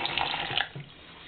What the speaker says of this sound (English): You're going to turn on the water and everything.